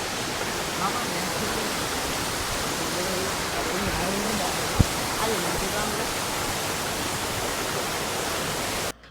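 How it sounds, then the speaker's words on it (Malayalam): Water from the Thenvarikkallu waterfall in a forest stream rushes in a steady, loud broadband roar throughout, with one brief sharp knock near the middle and no voices. "ആ തേൻവരിക്കല്ല് വെള്ളച്ചാട്ടമുള്ള തോട്ടിലോട്ട് എത്തി കേട്ടോ ഇവിടെ രണ്ട് ചെറിയ വെള്ളച്ചാട്ടങ്ങളുണ്ട്"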